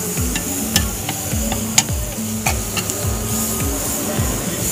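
Tomatoes and masala frying in a pan, a steady sizzle broken by repeated scraping stirs and sharp clinks of a spoon against metal, close and continuous, no talk.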